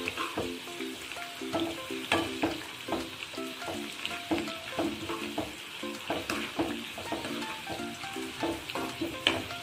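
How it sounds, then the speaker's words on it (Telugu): Green chillies fry in hot oil with a constant sizzle, broken by regular rhythmic scrapes and taps of a spoon stirring in the pan. "ఇవి కొంచెం పచ్చిమిరపకాయలు వేగిన తర్వాత కరివేపాకు వేసేసుకుందాం."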